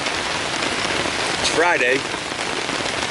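Steady rain falls at a campsite in Grayson Highlands during a fall gathering, a loud, dense hiss close by, with a person speaking briefly over it.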